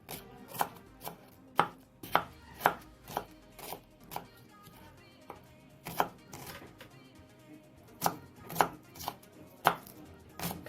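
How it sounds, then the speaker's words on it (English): Egg fried rice ingredients finely chopped with a knife on a board, giving a fast run of sharp, close knocks in irregular bursts, some strokes louder than others, with no voices. "Trying to go as fast as can. Get it as finely chopped"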